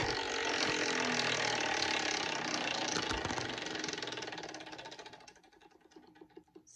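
A prize wheel spun between skateboard tricks clicks rapidly and continuously against its pointer, loud at first, then thinning into slower, sparser ticks as it winds down.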